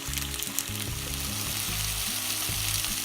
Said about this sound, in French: Même processus, huile d'olive, courgettes, sel, poivre, thym. Et on fait juste réduire nos courgettes.